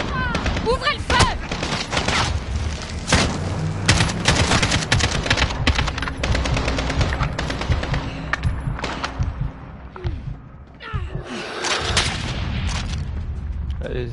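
A video game battle roars with heavy, continuous gunfire: loud bursts, rapid automatic fire and booming blasts crowding together, easing briefly near the end before picking up again, with voices speaking in French now and then.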